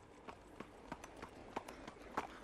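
Horse hooves clip-clop in a steady, evenly spaced rhythm, faint and fairly distant against a quiet background.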